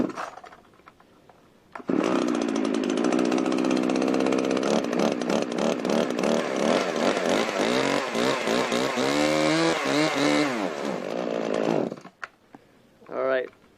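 A Husqvarna Rancher 55 chainsaw, choke off, fires on a pull start and roars loudly up close for about ten seconds, its engine note rising and falling with throttle before cutting out, followed by a brief voice.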